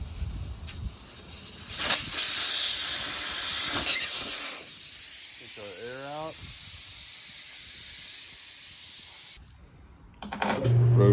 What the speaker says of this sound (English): take out valve stem